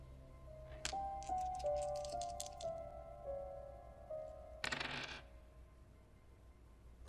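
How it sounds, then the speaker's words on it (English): Dice rattle and tumble across bathroom tiles in a short clattering burst, followed by a second quick rattle a few seconds later, close and fairly quiet with no voices. "The dice tumble across the bathroom tiles and they land on a rather disappointing result."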